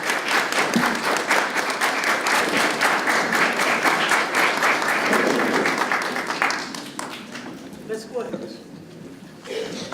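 Audience at a candidates' forum clapping for the eight candidates, a sustained burst of applause with crisp individual claps that thins out and fades after about six seconds, with voices mixed in.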